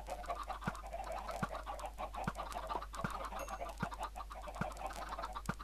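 Video game hens cluck and squawk in a busy, continuous chatter, some of them burning, with sharp periodic clicks cutting through at a steady beat over a constant low hum.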